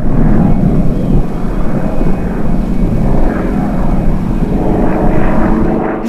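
A propeller aerobatic plane performs at an airfield air show, its engine droning loud and steady throughout with slowly swelling and fading pitch as it maneuvers nearby.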